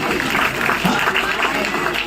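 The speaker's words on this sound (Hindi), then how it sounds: "तालियां तो बनती हैं" Audience applause at a youth leadership event in a hall: dense, steady clapping that holds at an even level for about two seconds, with a faint murmur of voices underneath.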